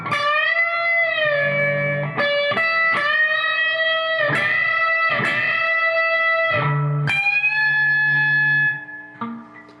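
An electric guitar plays a solo at a slow practice tempo with effects, sustained bent notes and separate picked phrases, loud and alone, ending with a fading ring.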